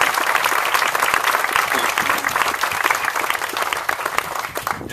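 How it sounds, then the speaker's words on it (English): Steady, dense applause from an audience at an event in Poplar Bluff, continuous and loud throughout with no one speaking over it. "Joey, let's give them a huge round of applause"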